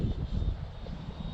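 An electric RC airplane cruising around a flying field at about 40% throttle, a steady motor and propeller drone with a thin high whine, fairly near and continuous, no talking.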